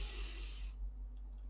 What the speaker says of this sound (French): Quand vous inspirez,